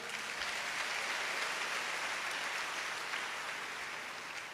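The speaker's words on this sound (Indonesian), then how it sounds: "Tepuk tangan yang meriah." A church congregation claps during a sermon, a thick, even wash of applause that continues steadily throughout without a break.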